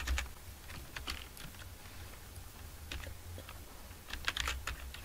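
Soft keystrokes on a computer keyboard, a short run of light clicks typing a web address, quiet and close with a faint background hum.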